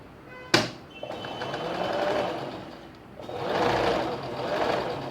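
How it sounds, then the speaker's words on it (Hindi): A sewing machine stitches along a kurti collar, humming steadily up close in two long runs separated by a short pause, with a sharp click near the start. "इस तरह से आप लगाते आइए सिलाई, पूरे कॉलर पे इस तरह लगा दीजिए।"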